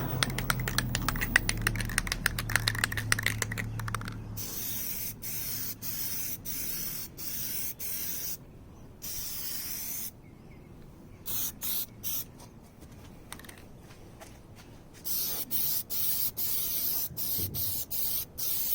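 Aerosol bursts of Plasti-Dip rubber coating hiss onto a BMW E90 grille, loud close spray passes broken by short pauses and rapid clicking nozzle taps, with no talking.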